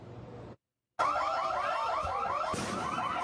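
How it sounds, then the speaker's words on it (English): A store alarm at Bell Fries wails in rapid repeating electronic sweeps during a fight, loud and continuous after a brief cut-out, with a short burst of noise near the end and no speech. "You're hearing the store alarm wail."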